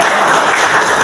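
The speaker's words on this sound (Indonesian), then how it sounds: "Kasih tepuk tangan dulu dong." A school class applauding on cue after a student presentation on religious norms, a dense, steady wash of many hands clapping close by for about a second with no voices over it.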